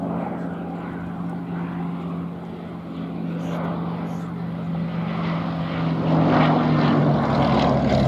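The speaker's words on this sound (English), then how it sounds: "Powered by a Bristol Mercury air-cooled radial engine" A Westland Lysander's Bristol Mercury air-cooled radial engine drones in flight, a steady propeller hum that grows slightly louder toward the end, with a voice talking over it.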